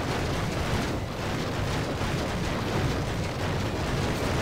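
Catapult destroyed in the video game Medieval 2 Total War, a dense, steady crashing roar of battle noise with bursts and rumbles throughout, loud and unbroken.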